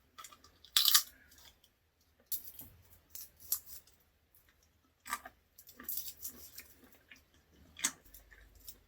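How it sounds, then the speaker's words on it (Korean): Peanuts crunch between the molars in several sharp, close cracks and bites, scattered irregularly with quiet pauses between them. "땅콩을 오랜만에 먹네요."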